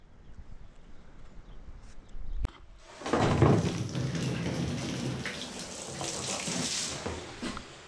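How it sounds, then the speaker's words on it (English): Water gushing steadily into a drum on a farm before slurry aeration, a loud continuous broadband rush that starts abruptly after a brief thump and quieter background, then holds unbroken to the end. "we're just filling the last drum up behind me here"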